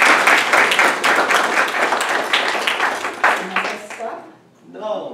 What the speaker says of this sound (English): I was wondering whether the applause was a signal to stop.